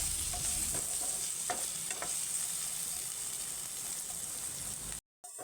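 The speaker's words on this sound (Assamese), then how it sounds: "এইখিনি আকৌ অকনমান ভাজিম যেটো ভালদৰে ফ্ৰাই হোৱা নাই" Steady sizzling of potatoes frying in a pan, with occasional scraping stirs, close and continuous before cutting off abruptly.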